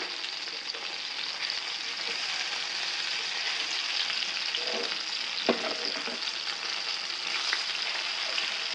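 Tawa chicken fries on a flat griddle with a constant bright sizzle, while a spatula turns the pieces with a couple of soft scrapes and taps partway through.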